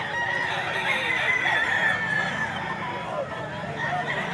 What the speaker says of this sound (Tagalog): Dami manok oh.